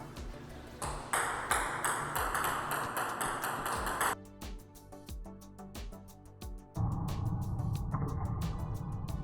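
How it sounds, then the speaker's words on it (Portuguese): A table tennis ball ticks in quick, bright pings as it bounces on the table during short serves, the rhythmic clicks repeating close by over a changing background that grows noisier at times. "No saque curto é necessário que o primeiro pingo seja um pouco mais próximo da redinha."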